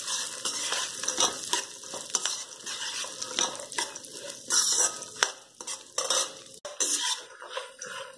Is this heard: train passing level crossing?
no